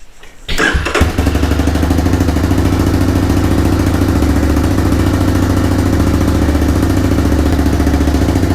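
A 1985 restomod motorcycle cranks, fires within about a second, then settles into a loud, steady, rapid-pulsing idle close by, no voices.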